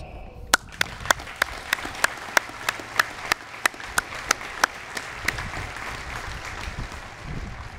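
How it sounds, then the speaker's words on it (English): At a military basic training graduation, a crowd applauds the families; sharp, evenly spaced claps ring out near and loud over a bed of distant applause, then fade into crowd murmur. "you deserve a huge round of applause"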